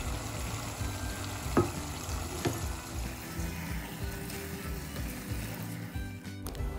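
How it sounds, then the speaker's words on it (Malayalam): Onions sautéing with salt in a pan for a Kerala-style chicken 65 biryani, giving a steady close sizzle with soft stirring scrapes and a couple of sharper utensil clicks, no voices. "ആവശ്യത്തിനുള്ള ഉപ്പ് ചേർത്തിട്ട് സവാള നന്നായി വഴറ്റി കൊടുക്കുക"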